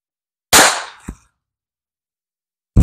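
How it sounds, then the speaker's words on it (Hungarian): Two sharp, loud cracks of Winchester .22 LR rounds fired from a Taurus TX22 compact pistol, the first with a short ringing tail and a small echo, the second arriving after a silent gap. "Akkor 22 LR Winchester lőszer pisztolyból kilőve."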